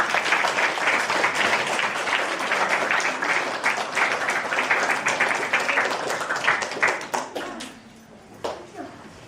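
An audience claps after a children's play, a full, lively round of applause with sharp individual claps that gradually thins and trails off into a few scattered claps near the end.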